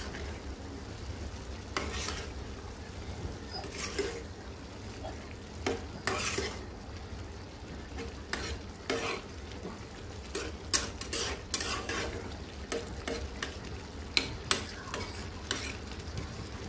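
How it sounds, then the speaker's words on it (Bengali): Potatoes frying in oil in a pan while being stirred, with a constant sizzle and repeated scraping and clinking strokes of the utensil against the pan, near and with no talking. "তো ঢাকনাটা উঠিয়ে একটু পরে আবার নেড়ে চেড়ে দিব।"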